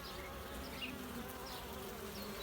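A dense, steady hum of many honey bees buzzing close by at a hive with laying workers, around the queen, a continuous drone with individual insects flitting past.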